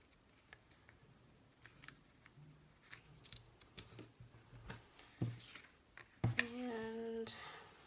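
Scissors cut through material in a quiet room, a series of faint close snips and clicks that grows louder toward the end.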